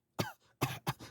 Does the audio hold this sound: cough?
yes